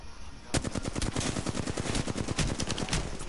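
Rapid automatic gunfire from a first-person shooter video game, a dense stream of loud, closely spaced shots that begins abruptly after a brief quiet moment and continues steadily to the end.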